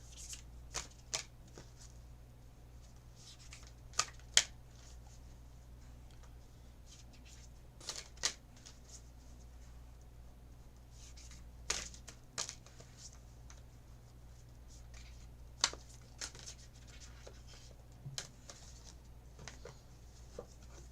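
Tarot or oracle cards are shuffled by hand in soft, quiet bursts of riffling and patter, repeated at irregular intervals over a low steady background hum.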